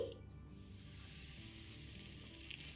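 Two tablespoons of very hot oil poured into wheat flour with salt for vegetable puffs, giving a steady close sizzle that starts with a brief burst and hisses on evenly throughout, with no talking.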